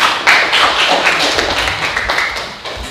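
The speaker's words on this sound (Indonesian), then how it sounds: "Tepuk tangan." Students clapping in an Indonesian junior high school classroom, a short burst of dense, close hand claps that gradually thins out, with a faint voice underneath.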